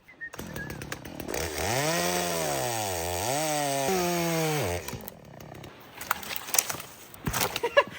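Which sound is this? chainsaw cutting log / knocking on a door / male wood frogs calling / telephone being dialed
chainsaw cutting log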